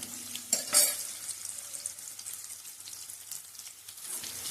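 Onions fry in a pan for a green pea curry, giving a soft steady sizzle with a brief clatter of stirring near the start, fairly quiet and continuous throughout.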